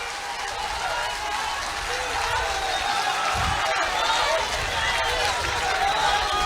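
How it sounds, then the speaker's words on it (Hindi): A political rally crowd in Vaishali claps for Defence Minister Rajnath Singh, making a steady, dense roar of applause and crowd noise that holds evenly loud from start to finish. "हाथ उठाकर तालियां बजाकर बतलाइए"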